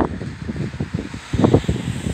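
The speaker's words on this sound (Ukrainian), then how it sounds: "такий ще сильний вітер" Strong wind in a late-March snowstorm in Kyiv roars and buffets steadily with a harsh broadband rush, swelling into a louder gust near the end, with no voices.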